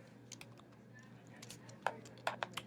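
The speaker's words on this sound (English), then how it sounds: "I'm going to type in" Typing on a computer keyboard: scattered soft key clicks that build into a few sharper, louder taps near the end, heard close up in a quiet room with no talk.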